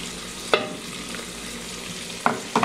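Onion and garlic hitting seared meat in a pressure cooker, giving a steady close sizzle with a few sharp utensil knocks against the pot, no voices.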